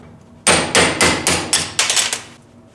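A hammer strikes sharply about eight times in quick succession to drive the center pin out of a 1973 Cutlass door hinge held in a vise, giving loud, close metallic blows.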